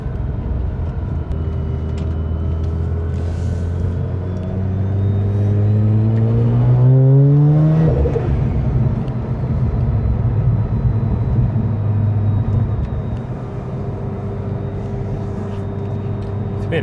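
Turbocharged Mazda RX8 rotary engine with a 5-speed gearbox accelerating, revs climbing smoothly through long gears with a shift near the middle, recorded from inside the car over road noise.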